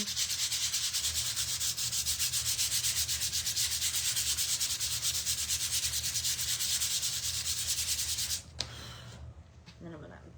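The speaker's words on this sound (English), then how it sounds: "I'm just going to do a light sanding." Steady, rhythmic hand sanding of a painted decor piece, a continuous close scratchy rubbing that stops abruptly near the end, followed by a few faint handling noises.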